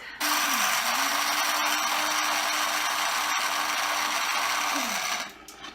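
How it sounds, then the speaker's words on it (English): Electric coffee grinder grinding beans with its lid on, a loud steady whirring roar that starts abruptly, holds for about five seconds, then winds down and cuts off, with no talking. "we're going to put the lid on the grinder, and we're going to grind the beans"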